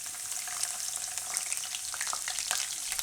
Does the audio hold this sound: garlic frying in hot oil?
yes